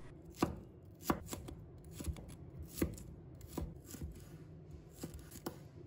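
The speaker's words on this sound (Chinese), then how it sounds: "再准备几个红葱头，把它切成片。" A knife slices shallots into rings on a cutting board, with quiet, close, evenly spaced chops about twice a second and no talking.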